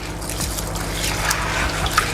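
Rice being washed in water for Jamaican rice porridge, a steady soft trickle and slosh of water running continuously, close and fairly loud, no talking.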